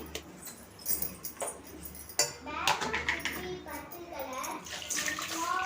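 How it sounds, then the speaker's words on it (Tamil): Ice water poured and swished over food in a home kitchen, splashing and trickling close by with clinks of a vessel and a utensil, while someone speaks over the running water. "நல்லா ஐஸ் வாட்டராக வந்து ஊற்றி அலசிக்கணும்"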